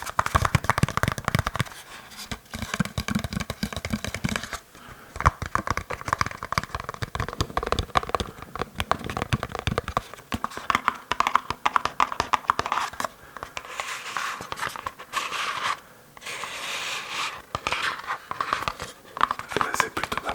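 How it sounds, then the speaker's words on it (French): A toothpaste packaging box being handled up close for ASMR, heard as steady crinkling, tearing and rustling of cardboard and paper in busy bursts, with a person speaking softly at times. "un emballage à dentifrice"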